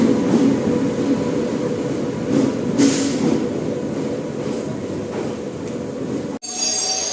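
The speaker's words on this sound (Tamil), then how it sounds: "திருவாரூர் காரைக்குடி பேசஞ்சர் வந்து நிற்கிது." The Tiruvarur–Karaikudi passenger train pulls in at platform 4 of a station, a steady close rumble of rolling coaches with faint squeals, continuous throughout and ending abruptly.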